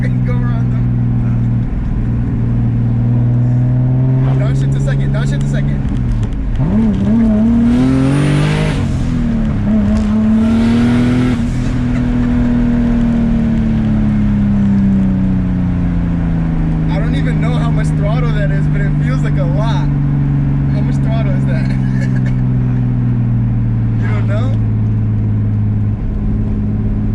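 Turbo BMW E30 with an M50 engine, about 500 whp, revving and accelerating after a downshift into second, a loud in-cabin drone rising and falling with whooshing bursts, under continuous conversation.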